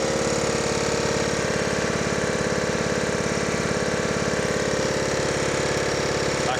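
A Honda GX140 engine on a gas-powered air compressor idles loud and close with a steady, rapid throbbing pulse and nothing else over it.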